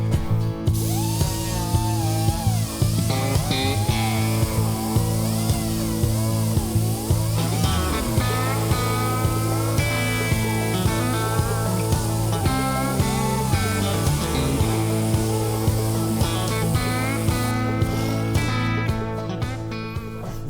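A 3-inch stripping disc on a power tool grinds rust and coating off the floor of a 1972 Chevy Nova, a continuous high, whining drone with wavering pitch as pressure changes, close and loud.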